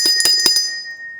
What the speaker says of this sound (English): ring the bell, ladies and gentlemen